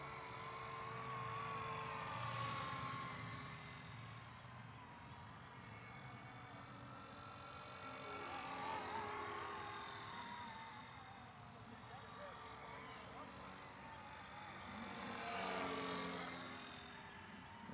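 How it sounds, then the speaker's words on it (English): A Blade Eclipse 360 RC helicopter flying, its rotor whine rising and falling in pitch as it moves about, with someone talking over it at moderate distance. "That tail really holds up for this helicopter."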